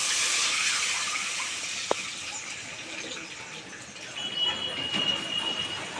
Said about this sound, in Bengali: দিয়ে দিচ্ছি এই কাপে 2 কাপ জল